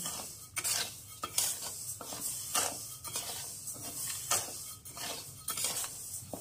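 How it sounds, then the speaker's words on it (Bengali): Lentils dry-frying to light brown in a pan for vegetarian bhuna khichuri, a rhythmic series of scraping stirs and shuffling grains with a faint sizzle underneath, close and fairly quiet. "এখানে ডাল ভাজা হয়ে গেছে।"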